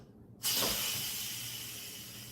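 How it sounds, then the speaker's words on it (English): A sudden loud hiss of steam bursts from a cooker of black-eyed peas and keeps streaming steadily, close and forceful, easing only slightly as it continues. "Okay, so I'm gonna let the steam out."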